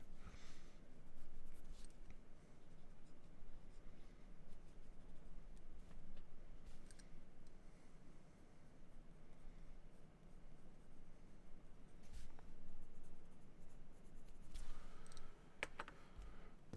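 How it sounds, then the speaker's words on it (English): A 2B pencil works texture into paper with continuous soft, gritty scratching strokes, steady and close but quiet, with a few sharper ticks along the way. "let's just do a little bit more texture work here. I'm still using the 2B pencil."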